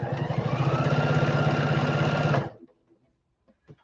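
Sewing machine quilting the edges of a blanket, running in a fast, steady whir for over two seconds before stopping abruptly, followed by a few faint clicks and handling sounds, close up.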